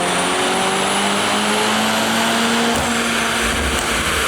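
A Mercedes C63 SE Performance engine runs on a dyno at JB4 map 2 with 91 octane fuel, a loud sustained high-revving whine climbing steadily in pitch, with a brief dip near the end.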